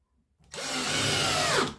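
Nine-year-old cordless drill driver driving a screw into wood, about five centimetres long, a single loud close whirring burst that starts abruptly after silence and stops after roughly a second.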